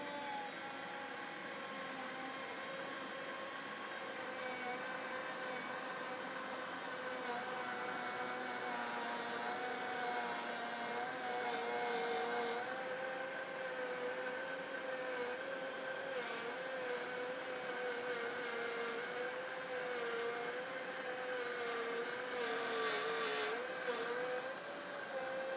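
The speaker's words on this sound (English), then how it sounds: "Although this machine is not too loud, my shop vac is." A Trend T18S cordless router cuts wood with a shop vac attached for dust extraction, giving a steady loud whine and drone that holds for the whole stretch and wavers slightly in pitch.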